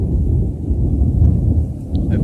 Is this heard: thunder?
yes